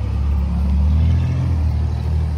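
A Dodge Scat Pack with a 392 Hemi V8 gives a steady, loud, deep low-pitched engine rumble close by, holding a sustained rev with no talking.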